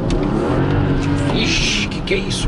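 A 2015 BMW 435i convertible with a turbocharged 3.0-litre inline-six pulls hard, its engine roaring steadily under excited voices and bursts of wind noise.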